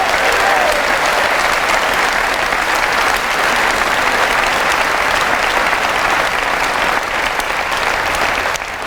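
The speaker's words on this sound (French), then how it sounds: "Et vous pouvez les applaudir." A large crowd at a political rally in Marseille claps in loud, continuous applause with no break, and a few faint voices are mixed into the clapping.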